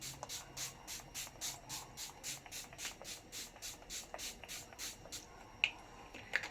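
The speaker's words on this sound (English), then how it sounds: "the Dewy Prep Setting Spray. It's a very, very fine mist" Rapid, regular spritzes of a fine-mist makeup setting spray, a quick even series of soft hissing puffs, followed by a few faint clicks.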